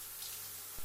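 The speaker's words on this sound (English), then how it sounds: "I take a warm shower." Warm shower water runs steadily in a home bathroom, a soft continuous hiss that holds even throughout and swells slightly louder at the very end.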